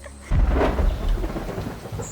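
A summer afternoon thunderstorm in Louisiana breaks with a loud, close crack of thunder that rolls on into a deep rumble, while heavy rain hisses steadily beneath it.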